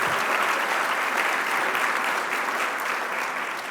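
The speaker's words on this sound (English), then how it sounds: "Applause for NASAA." An audience at an arts recognition ceremony applauds, a steady dense clapping that holds for several seconds and eases slightly toward the end.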